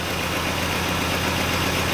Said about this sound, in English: it seems like it's idling a little happier